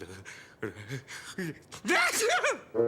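A cartoon character lets out a sharp voiced sneeze after a few short spoken phrases, a loud breathy burst near the end, followed by a brief bit of speech.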